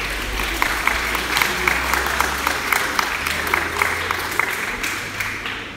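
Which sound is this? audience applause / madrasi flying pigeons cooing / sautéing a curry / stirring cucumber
audience applause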